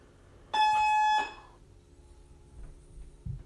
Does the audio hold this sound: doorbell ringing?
yes